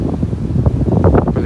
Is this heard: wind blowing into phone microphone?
yes